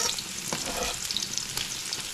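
Onion, garlic and pepper frying in a pan for an Indian-style fish curry, a steady close sizzle with crackling pops running throughout, no talking.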